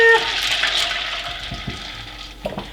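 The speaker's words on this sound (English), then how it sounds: "I add 3 cups of water to my mixture." Water poured from a container into a green tea mixture for iced tea, a steady splashing pour at close range that fades out near the end, with a few soft clinks.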